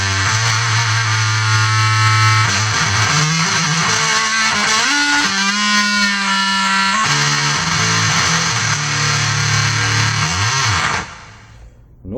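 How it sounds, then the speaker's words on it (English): Electric guitar through a basic distortion preset on a MUZA GP300 multi-effects pedal, playing a thick, buzzing sustained riff that shifts between notes, loud and continuous, then cuts off abruptly near the end. "I've just programmed in a whole lot of more pretty basic distortions"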